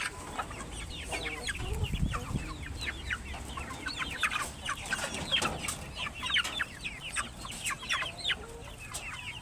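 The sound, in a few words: pet chickens clucking at snack time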